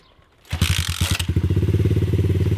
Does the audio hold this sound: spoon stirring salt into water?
no